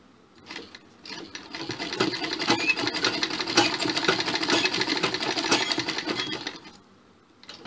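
Sewing machine stitching the piping and collar of a sherwani suit, a steady rapid mechanical whir that runs continuously for several seconds, then slows and stops near the end, with no talking.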